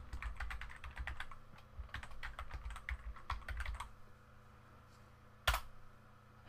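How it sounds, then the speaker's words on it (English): An email address is typed on a Mac keyboard as a quick run of soft, close key taps over about four seconds, then a pause and one sharper single keystroke. "I'm just going to type in my email address."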